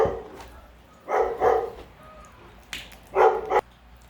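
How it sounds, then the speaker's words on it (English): A dog barks in a few separate bursts, two quick barks close together and then a single louder bark after a pause, fairly near and with no talking. "there's a dog barking"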